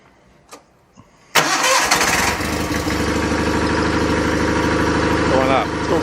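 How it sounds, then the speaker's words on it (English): A John Deere 318 lawn tractor's engine cranks briefly and then catches, settling into a loud, steady idle close by after a couple of faint clicks beforehand. "now let's go start it up"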